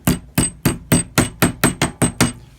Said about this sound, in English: And then a nylon hammer.